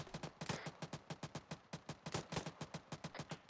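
Rapid regular bursts of gunfire in a military tactical shooter video game, roughly twenty sharp reports in under four seconds at a steady cadence, loud and close with no talk.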